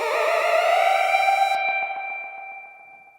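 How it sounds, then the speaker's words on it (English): A sustained electronic musical tone in a dub reggae jam with a metallic, splashy spring reverb tail that rings on and slowly fades after the attack stops. "And then with the spring reverb as well"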